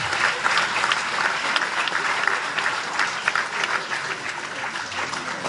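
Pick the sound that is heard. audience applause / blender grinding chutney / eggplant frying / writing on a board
audience applause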